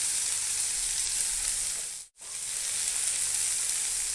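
Onion and tomato fry in a pan for a bitter gourd stir-fry, giving a dense, steady sizzle that holds strong and close, broken only by a momentary dropout midway.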